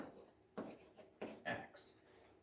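A pen writes out algebra working on a surface, giving several short scratchy strokes in quick bursts, close up but quiet, with no other sound between them.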